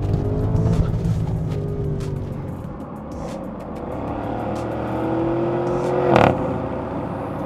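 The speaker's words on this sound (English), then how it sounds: "a whole lot of this engine has" A 2024 Audi SQ8 engine hums and drones steadily while driving, with low rumble and shifting tones that rise as it pulls, heard from inside the car and sustained throughout.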